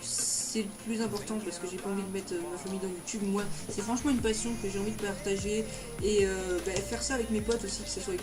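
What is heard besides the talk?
No everyday noises stand out.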